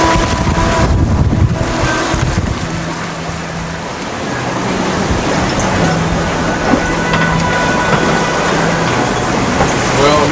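Strong 20 to 30 knot wind rushes over a sailboat heading south from San Diego through big ocean swells, a loud, steady roar with buffeting on the microphone, water wash and a low tonal hum throughout.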